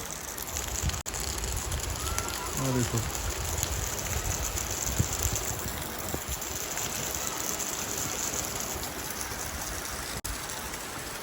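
Heavy rain pouring down behind a house, a dense continuous roar of falling water and splashing runoff throughout, with a brief spoken word partway in.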